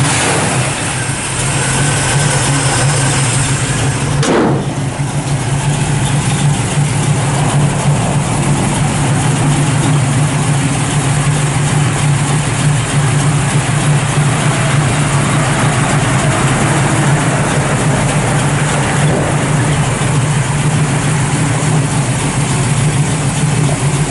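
A 1967 Chevrolet Nova II SS with a four-speed idles in a steady, loud, low rumble after a brief start burst, the engine running close and alone throughout.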